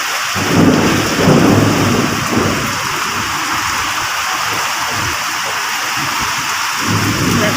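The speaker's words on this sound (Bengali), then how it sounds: "কি পরিমাণে দেখো ঝড় বৃষ্টি।" A thunderstorm with heavy, wind-driven rain that had brought hail roars steadily and loudly, with deep rolling rumbles of thunder swelling near the start and again at the end, and no voices.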